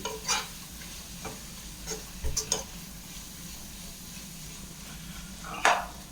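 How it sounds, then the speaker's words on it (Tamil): A spoon stirs spices and turmeric in a pan while sardine curry cooks, with a few scattered scrapes and clinks over a faint, low sizzle, fairly quiet and unhurried. "அப்படியே ஒரு கிண்டு, நல்லா ஒரு கிண்டி"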